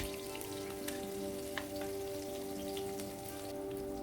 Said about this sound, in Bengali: এখন আমি সেই তেলের মধ্যে থেতো করে রাখা রসুন আর কাঁচা লঙ্কা দিয়ে দিলাম এক থেকে দু মিনিট মতন আমি রসুন আর কাঁচা লঙ্কা ভেজে নেব